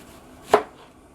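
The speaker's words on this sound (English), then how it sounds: "So I gotta finish cutting this onion up" A kitchen knife chops through an onion, one single sharp thud against a cutting board, close and crisp in a quiet room.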